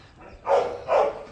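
A dog gives two short, muffled barks about half a second apart, somewhat distant against a quiet background, with no one talking.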